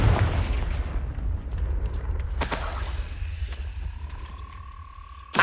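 A Confringo spell blast in Hogwarts Legacy on Xbox bursts loudly near the middle, a sharp explosive crack over a rumbling low game backdrop, followed by a fading magical hum.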